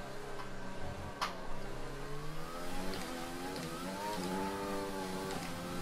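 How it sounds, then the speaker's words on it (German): Racing car in the F1 2020 game spinning its wheels in fifth gear on a wet Baku circuit, the engine note rising and wavering in pitch while holding loud and steady throughout, with no talking. "Wheelspin im fünften."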